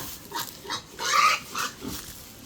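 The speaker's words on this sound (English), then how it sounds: "it's so rare to find right now a pig for the lechon" A pig at a rural Philippine fiesta, bought for lechon, gives a series of short grunting oinks, five or six bursts in an uneven rhythm, close and fairly loud with no talk.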